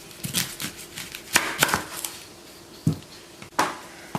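Knife chopping half an onion on a cutting board, a handful of sharp irregular knocks spaced across a few seconds, close and fairly clear with no talking.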